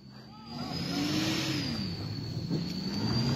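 Mitsubishi Triton pushing hard along an extreme off-road track in Papua, the engine droning and rising steadily under a high whine, up close and loud.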